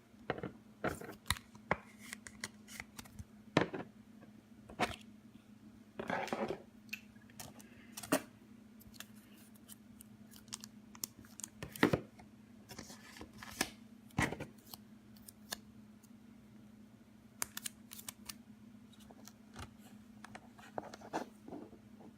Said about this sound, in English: it's pretty easy, pretty quick to write a price on a price sticker